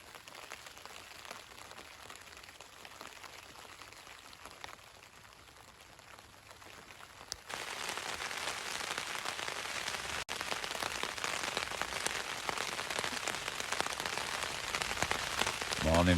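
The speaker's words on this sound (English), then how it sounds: "Well, it is raining." Steady rain drumming on a 3FUL LanShan 2 Pro tent pitched on Kidsty Pike in the Lake District, soft at first and then a denser, louder patter that continues without a break.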